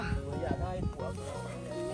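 A dog howls out on a rice-field farm, its drawn-out wavering tone running beneath lively voices of people talking nearby.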